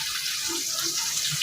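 Tap water runs from a faucet into a pot of curry in a home kitchen, a steady close splashing pour lasting about a second and a half with no talking.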